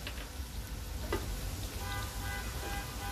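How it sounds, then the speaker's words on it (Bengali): Mixed vegetables for vegetable fried rice frying in a pan, a steady close sizzle with occasional stirring scrapes and no talk. "একটু ভেজে নেব"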